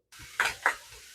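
Browned ground beef sizzles and is stirred in a pan, two distinct scraping stirs standing out over a low steady frying hiss, close and fairly quiet.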